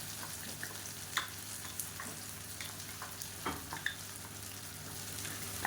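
Raw banana pieces roasting in oil with spice powder for a Madurai-style masala poriyal, a soft steady sizzle with occasional clicks of a spatula, fairly quiet and close.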